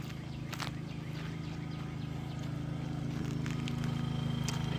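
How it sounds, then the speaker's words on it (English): A Westinghouse inverter generator running at a distance, a steady low mechanical hum throughout, with scattered soft clops and rustles over it. "It's a generator, you guys."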